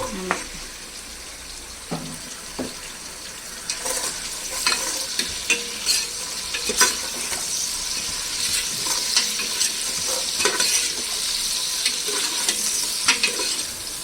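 Carrots tossed into a pan of vegetable biryani, stirred with repeated scraping clicks over a steady close sizzle of frying throughout.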